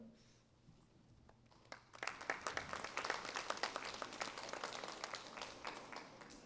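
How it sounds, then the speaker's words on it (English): Audience applause at a summer festival queen pageant, quiet for two seconds and then swelling into a dense, sustained clapping from a crowd that continues to the end. "Again, please hold your applause."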